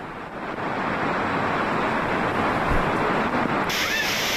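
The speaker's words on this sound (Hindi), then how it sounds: "सीढ़ियों पर से पानी का तेज बहाव हुआ" Heavy rain sends water rushing down temple steps in a steady, loud, broadband roar of flowing water that holds constant throughout, with no voices.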